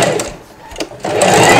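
Sewing machine stitching a double hair weft for a wig, a close, steady mechanical whir that starts, pauses briefly and then runs continuously and loud.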